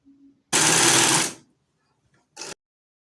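A sewing machine stitches fabric patches for a dress in one short, loud burst of close whirring, followed by silence and a second brief spurt.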